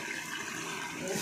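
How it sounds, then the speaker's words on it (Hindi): Water pours steadily into a pot of mash daal (split lentils) being cooked in a home kitchen, a close, continuous splashing rush with no pauses. "पानी भी डाल।"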